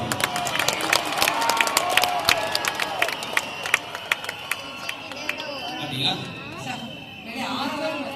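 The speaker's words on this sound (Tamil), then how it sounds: "ஒரு பெரிய கரகோஷம் கொடுத்து அனுப்புவாங்க" Audience applause and cheering at a public event in Nagercoil, dense clapping with sharp individual claps standing out, fading somewhat near the end before the crowd noise swells again.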